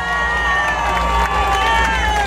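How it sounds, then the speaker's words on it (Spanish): Large outdoor crowd cheering at an AMLO political rally in Chalco, State of Mexico, 2012; loud, close, continuous roar with sustained shouts and whistle-like tones, with light clapping blended underneath. "¡Fuerte el aplauso!"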